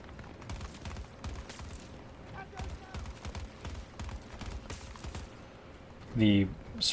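Burst gunfire in the video game Battlefield 6, with rapid repeated shots crackling throughout at moderate loudness while someone talks over the action.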